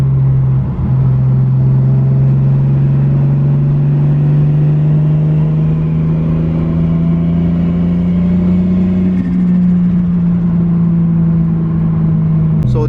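A Toyota Supra with a newly fitted engine, driven in third gear during break-in, holds a loud, steady drone inside the cabin that climbs slowly toward about 3,000 RPM, then eases off as it coasts down.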